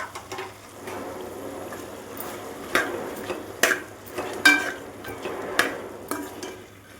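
Ginger garlic paste fries with chicken in a pan, a soft sizzle under repeated spatula scrapes and knocks against the pan, irregular and close.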